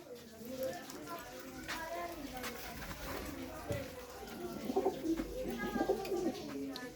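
Pigeons at a pigeon sale cooing in low, repeated rolling calls, with murmuring voices and background noise in a busy space.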